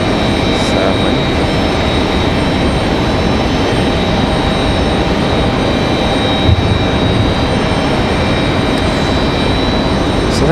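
A CRJ regional jet taxis out at Raleigh-Durham airport, a steady broadband engine rumble and whine holding constant and fairly loud throughout.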